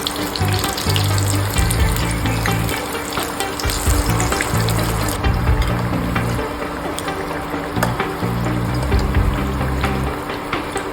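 Potato and capsicum pakodas frying in hot oil, a loud continuous close bubbling sizzle that holds steady throughout, with occasional light clatter and no voices.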